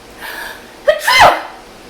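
One close sneeze into an elbow with a quick breath beforehand, sharp and loud, slightly muffled, then fading out.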